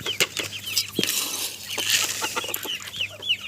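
A brood of half-grown Australorp chicks clucks and peeps in a farmyard, with frequent short chirps and soft clucks overlapping, close by and fairly loud, along with a few bursts of wing flapping.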